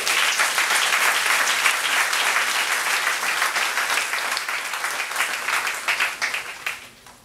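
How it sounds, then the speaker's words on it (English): An audience gives a loud, sustained round of applause at an awards-related talk, dense clapping from many hands that holds steady before tapering off at the end. "So one more round of applause."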